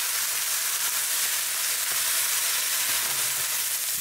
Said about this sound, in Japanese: よく混ぜながら、このまましんなりするまで中火で炒めます。